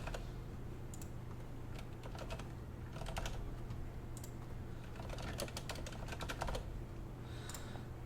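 Quiet, irregular bursts of keystrokes on a computer keyboard, clustered in short runs with pauses between, heard over a steady low hum from a desk setup.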